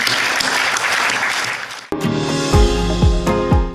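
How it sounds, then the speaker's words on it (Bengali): An audience honoring scouts bursts into dense applause for about two seconds, which cuts off abruptly as a bright broadcast jingle with deep booming beats takes over. "সবাই মিলে আমরা এটা হাততালি দিই তার জন্য"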